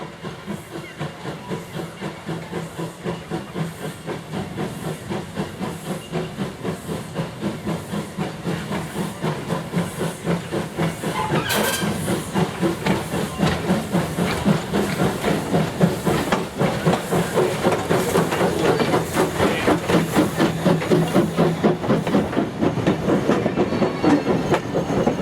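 A steam tank engine of the South Maitland Railway at Hunter Valley Steamfest idles and chuffs steadily nearby, a continuous hiss under rhythmic rumbling beats, growing slightly louder as it goes.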